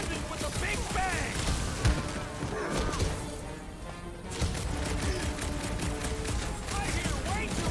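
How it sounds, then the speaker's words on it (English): Gunfire from the video game Marvel's Guardians of the Galaxy: dense, continuous rapid shooting with thuds and impacts over a busy combat soundscape, while voices talk over the action. "I hear way too much shooting."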